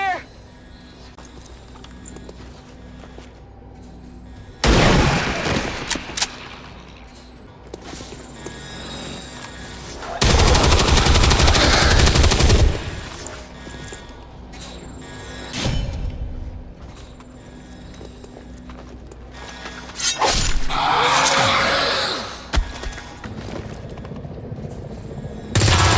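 Bursts of heavy gunfire from XCOM 2 erupt in several loud volleys, each lasting a few seconds, separated by quieter stretches of ambient game sound with faint voices.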